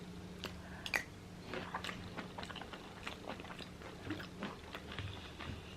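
Someone chews crunchy homemade granola with pumpkin seeds, close to the microphone, with steady, quiet crunching and biting over about six seconds and no talking.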